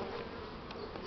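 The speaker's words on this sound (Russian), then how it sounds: "Вот много пчел с обножкой прилетело опять." Honeybees returning to the hive carrying large pollen loads on a warm spring day, a dense steady buzzing swarm close by with no pauses, loud and continuous throughout.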